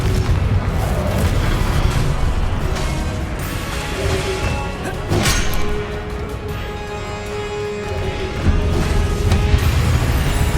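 Confringo fire spell explosions in Hogwarts Legacy, heavy booming blasts and crashes rolling continuously over dense game combat noise, with one sharp burst in the middle.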